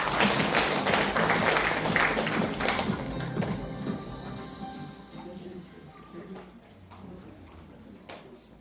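An audience at a lecture on maritime heritage applauds in a burst of dense clapping that gradually thins out and fades into a few scattered claps.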